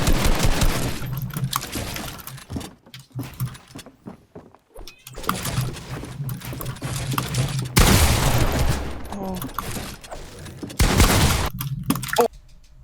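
Repeated bursts of video game gunfire in a boxfight, loud volleys separated by short quiet gaps, with several distinct rounds of shooting across the stretch.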